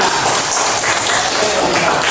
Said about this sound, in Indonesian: Oke, kasih tepuk tangan untuk semuanya.